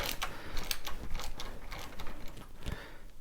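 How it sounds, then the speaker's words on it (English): A ratchet loosens the fairing bolts on a Harley-Davidson Iron 1200 Sportster, a close, steady run of rapid clicking strokes that goes on for about three seconds. "So let's start loosening these bolts."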